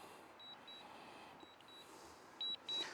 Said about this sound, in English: we do get this annoying beep as well from the controller that tells us that it's coming in